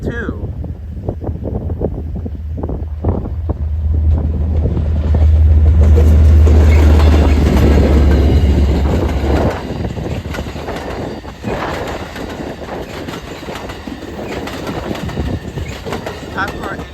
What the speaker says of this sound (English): There goes your Amtrak train number 715 to Oakland, Jack London Square.